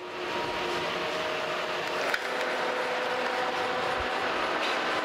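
A Kearney & Trecker 3H horizontal milling machine, powered through a phase converter, runs with a steady loud mechanical whir and gear hum, joined by a single sharp clunk partway through.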